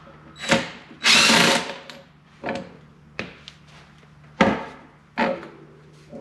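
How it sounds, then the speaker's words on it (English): Intrax rally suspension housing being disassembled as a nut is taken off, with several short bursts of a power tool whirring close and loud, separated by brief pauses and small clicks. "So while I'm holding pressure down here, I'm just going to take this nut off."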